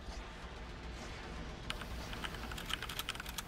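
Computer keyboard keys click in quick bursts during a Renegade X match, starting soft and growing into a louder, close run of typing taps.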